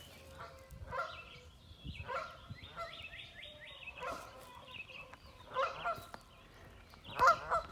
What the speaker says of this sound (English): Mama Goose and Daddy Goose are upset because they want to come to shore